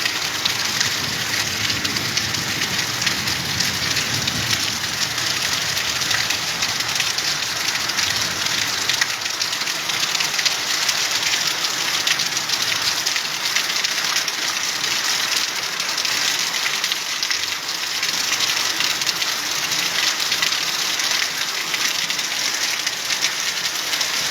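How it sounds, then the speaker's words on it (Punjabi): Heavy rain pours steadily, a dense, loud hiss of drops on surfaces that continues without a break throughout. "ਮੀਂਹ ਜ਼ਬਰਦਸਤ ਹੁਣੇ ਆਇਆ"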